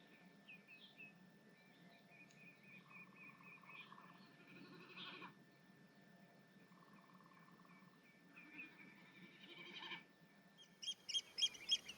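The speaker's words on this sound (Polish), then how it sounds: "Słychać też przelatujące co jakiś czas bekasy, które swoim charakterystycznym beczeniem dają znać, że to ich terytorium" Common snipes drum as they fly over in spring, a faint bleating, pulsing hum that recurs every few seconds from a distance, mixed with other distant bird calls and sharper chirps rising near the end.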